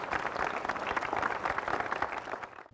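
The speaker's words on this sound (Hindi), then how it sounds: "इनका जोरदार तालियों से अभिनंदन कीजिए।" Audience applause welcoming a panelist at an academic discussion on higher education, dense steady clapping from a room full of people, fading out at the end.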